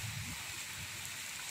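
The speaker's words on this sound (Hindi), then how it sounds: "बारिश के साथ साथ थोड़ी थोड़ी छोटी छोटी बर्फ भी आई है।" Steady outdoor rain with small hail falls, a dense, even hiss of drops spread across the whole clip, fairly faint and without any talk.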